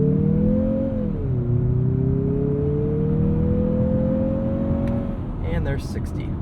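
A 2023 Mazda CX-50 with traction control off launches hard from a brake-torque start, its turbocharged engine droning loudly as revs climb, dip at a shift, then build steadily before easing off.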